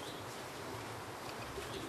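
Racing pigeons arrive at a loft in Szczecin, giving soft continuous cooing with faint wing flaps and chirps under a steady outdoor background hum.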